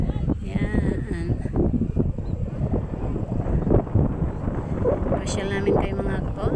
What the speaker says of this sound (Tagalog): Sobrang windy dito mga kapobre.